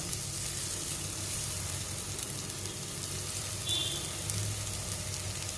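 Tofu, broccoli and mushroom sauté in a pan over a low flame, giving a continuous close, even sizzle with faint crackles and no talking.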